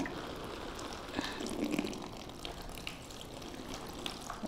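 Water sprinkled from a watering can onto a toy Noah's ark to imitate rain during a children's lesson, a steady, close pattering shower of spray lasting several seconds with no talking.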